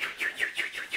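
Springtime birds sing a quick series of about six bright, high chirps in an even rhythm. The calls are close and clear, with no other sound.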